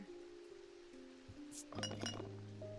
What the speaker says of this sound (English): There's a strong odor when I shake it, it rattles.